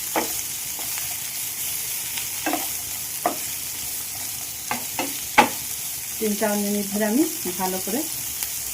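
Coriander leaves and spices fry in a pan on a gas stove with a soft steady sizzle and occasional stirring clatter, while someone talks over the cooking.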